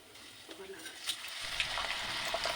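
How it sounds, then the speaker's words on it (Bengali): Thick noodles for American chopsuey fry in oil at medium heat, with a soft sizzle that builds as the noodles go in, and faint clinks and a voice alongside. "তেলটা ঠান্ডা হতে দিলে হবে না মিডিয়াম হিটে এটা ভেজে নিতে হবে"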